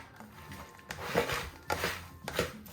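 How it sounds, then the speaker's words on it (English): A spoon works through a thick, creamy hash brown casserole mixture of potatoes and cheese, giving a few soft, wet scraping and squelching pushes in close succession. "I'm just gonna give this a good stir"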